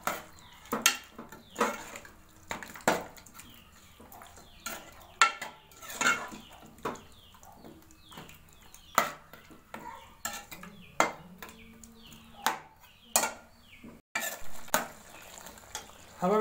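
A spoon stirs yogurt into chicken in a metal pot for green chicken karahi, producing irregular scraping strokes and sharp clanks against the pot, close and clear.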